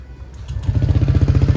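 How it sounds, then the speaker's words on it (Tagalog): A motorcycle fitted with a 4ROAD exhaust pipe cranks briefly and catches, settling at once into a close, loud, rapid even putter. "Start agad yung motor natin, hindi nahirapan"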